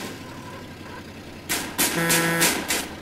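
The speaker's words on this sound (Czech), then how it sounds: "Jo, troubí to." A car horn honks several times in the GTA San Andreas video game, short loud blasts in an irregular rhythm over a low engine rumble, with no talk.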